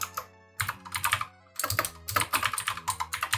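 Quick bursts of clacky computer keyboard typing while writing code in Roblox Studio, close and crisp, with short pauses between flurries of keystrokes.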